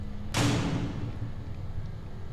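A door in the visual novel Everlasting Summer shuts with one sharp, loud slam that rings out and fades over about a second, with nothing else around it.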